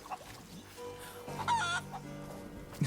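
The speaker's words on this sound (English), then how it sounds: "We just put the chicken down." Chicken clucking in the video game Rise of the Tomb Raider, a few short clucks and a brief squawk over quiet game ambience, with a sharp thump at the very end; no talking.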